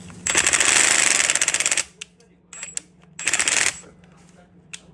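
Hammer blows on a tool fitted to a seized, rusted exhaust stud on a Kawasaki Z750 motorcycle: a long burst of rapid, loud metallic strikes, a pause, a few lighter taps, then a second hard burst and a last faint tap.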